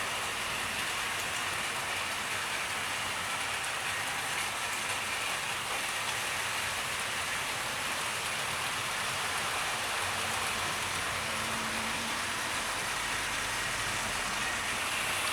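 Hornby model Coronation class locomotive running on track, heard as a steady, even whirring rumble with a hissing wash that holds constant throughout, with no talking.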